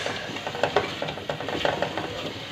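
Lentils being stirred in a pot with salt and crushed and ground red chili, a steady scraping stir with faint sizzling underneath, fairly close and moderately quiet, no voices.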